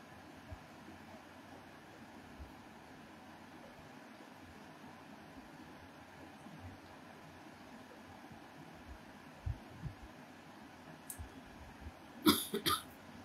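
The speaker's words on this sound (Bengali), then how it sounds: "কাশিটা কমেনি, কাশি মনে হচ্ছে আমাকে ছাড়বে না গো" A few short, lingering-illness coughs burst out near the end of a long, quiet stretch of faint background hiss.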